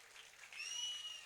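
Audience clapping rises in a brief burst at a Tamil drama performance in Madurai, a fairly faint wash of applause with a shrill whistle cutting through.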